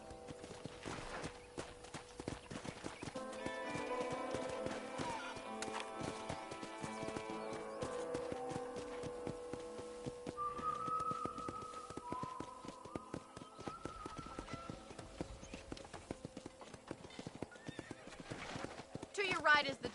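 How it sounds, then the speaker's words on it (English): A horse in the Red Dead Redemption video game canters with steady clip-clop hoofbeats, neighing and whinnying along the way, close and fairly loud throughout, with some game speech mixed in. "let's see if you can still ride a horse."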